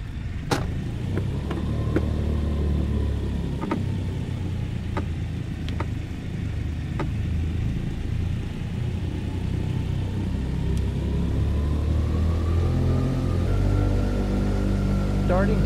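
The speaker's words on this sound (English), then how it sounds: "Starting takeoff roll." Aircraft engine holds a steady low drone through a takeoff roll, with sharp clicks and a rising whine near the end and talk over it.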